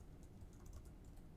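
Soft, quiet keystrokes on a computer keyboard as a date is entered into an Office spreadsheet, a brief run of light clicks with no talking.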